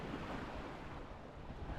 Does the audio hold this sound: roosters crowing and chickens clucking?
no